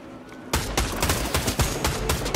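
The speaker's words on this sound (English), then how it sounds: "Oh, they're shooting!" Gunfire in the Fortnite battle royale game: after a quiet opening, a sustained burst of rapid shots, loud and close, with sharp cracks repeating irregularly through the rest of the moment.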